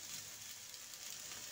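Onions and sweet peppers frying in a pan give a soft, steady sizzle, faint and even throughout a short stretch with no voices.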